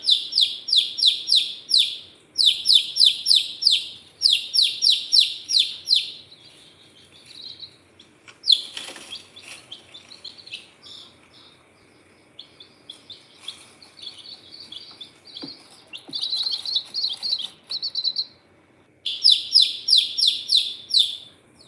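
Newly brooded chicken chicks peep loudly and close in bursts of rapid high-pitched chirps, pausing briefly between runs, with faint handling noise beneath.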